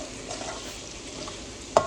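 Chicken fry with spring onion, garam masala and crushed black pepper being stirred in a pan, a soft steady sizzle and scraping with one sharp utensil clank near the end.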